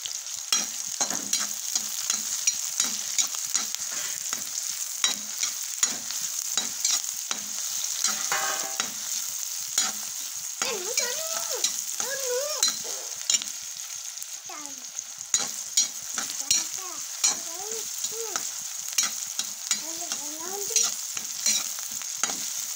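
Onions fry in a pan with a continuous hissing sizzle and frequent crackles and pops, while stirring scrapes come through close up. A few faint whistling, squealing tones rise over the frying in the second half.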